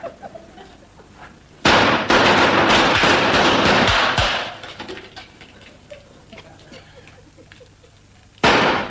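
Gunshots in a comedy Western shootout: a sudden loud burst of shots and cracks lasting a few seconds, then a quieter stretch of rustling, and another sharp blast at the end.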